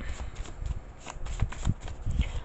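Tarot cards being shuffled by hand, a quick series of soft riffling flutters and taps, close and fairly quiet, with no talk.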